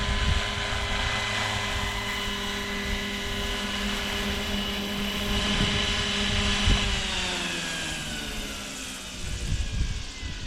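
Steady mechanical whine and buzzing hum of a small Hughes MD500 RC model helicopter flying nearby, continuous for several seconds with slight pitch shifts.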